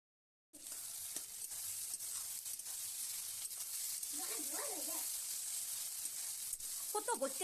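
Chicken pieces with onion and tomato fry in hot oil, a steady close sizzle with the stirring of a spoon against the pan. Someone talks over it now and then.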